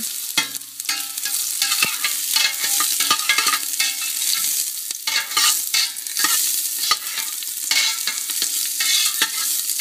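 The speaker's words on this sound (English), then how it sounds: "I'm just going to fry up the garlic. And the ginger." Garlic and ginger fry in hot oil in a pan, making a bright, continuous crackling sizzle close by, with stirring scrapes coming through at intervals.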